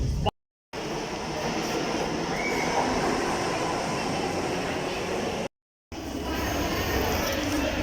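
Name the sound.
metro train arriving at station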